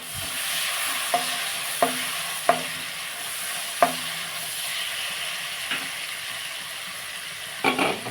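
Chopped onion sizzles in a pan of blended cashew and tomato paste for liver curry, a constant frying hiss broken by several sharp scrapes and knocks of a spoon stirring against the pan, with no talking.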